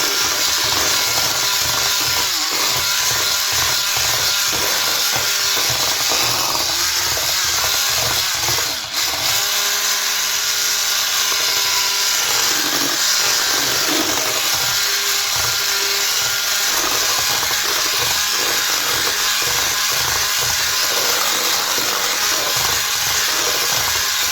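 A hand mixer whips a packet of cocoa whipped cream powder, giving a loud, steady motor whine that runs unbroken almost the whole time, with a brief dip near the middle and no talking.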